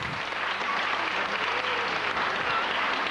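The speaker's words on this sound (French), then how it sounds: "Un très grand applaudissement pour Jean-Paul Ducasse." Steady, dense audience applause fills a children's Easter celebration show, a continuous even wash of many hands clapping at close range with no speech over it.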